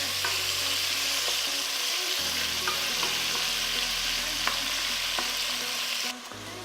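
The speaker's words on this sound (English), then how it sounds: "put your pork in your medium-high cooking pan. Give it a stir. All we want to do is brown this on all sides." Pork chunks browning in a medium-high pan, a steady dense sizzle with occasional spoon scrapes and stirring clatter, loud and close throughout with no talk.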